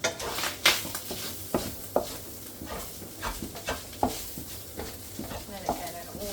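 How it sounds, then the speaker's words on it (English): Onion cooking in oil in a pan sizzles quietly beneath repeated sharp scrapes and clinks of a utensil stirring against the pan, close by, with no talk. "I'll pop some oil in this one. And turn it on, and then we're going to add in our onion to this one."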